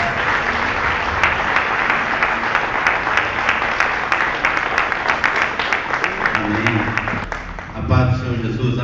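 A church congregation clapping in worship, sustained dense applause with sharp individual claps standing out, running for several seconds before fading as a voice begins speaking near the end.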